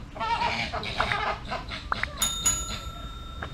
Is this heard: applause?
no